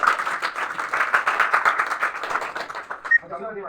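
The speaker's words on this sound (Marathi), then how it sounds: "कलाकृतीसाठी सर्व विद्यार्थ्यांनी जोरदार टाळ्या वाजवलेल्या आहेत" Students clap loudly for an artwork, a dense burst of applause from a group in a room that fades near the end as a voice begins speaking.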